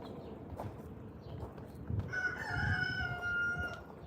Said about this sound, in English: You're a little late, Rooster.